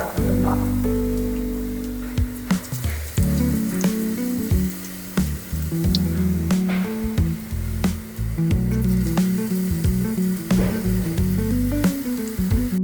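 Chili and garlic frying in hot oil for a spicy chutney, a loud continuous sizzle with crackling pops throughout and occasional clinks of a utensil.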